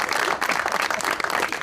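Applause from an audience at a film cast introduction on a television show, a brief, dense burst of many hands clapping at close range, fluttering and continuous.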